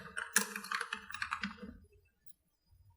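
Rapid keystrokes on a computer keyboard while filling in an online registration form, a quick close run of clicks for under two seconds, then near silence with a faint tap or two.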